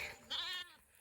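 A young goat kid gives a single short, wavering bleat, close and alone with no other sounds.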